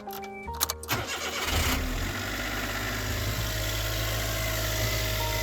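A car engine cranks and catches, then settles into a steady close idle during a cold-weather warm-up run after radiator coolant work, with no talk.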